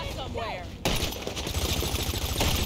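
Gunfire in GTA Online, rapid bursts of shots in a noisy firefight heard under excited talk from players.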